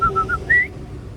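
A person whistles a short family call: three quick identical notes followed by one longer rising note, clear and close with nothing else around it.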